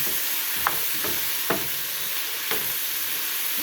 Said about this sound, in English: I just want to stir it.